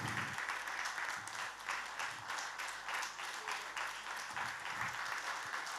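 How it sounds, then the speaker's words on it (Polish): Audience at a ballad-singing performance applauds in steady, even clapping that swells and dips slightly, fairly distant and quiet. "Wielkie brawa przed Państwem Maciej Służała."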